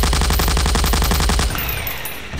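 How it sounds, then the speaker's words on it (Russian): A minigun in Garry's Mod fires a loud, rapid unbroken burst for about a second and a half, then cuts off, leaving only a faint fading tail. "Этот миниган очень мощный, чтобы вы понимали."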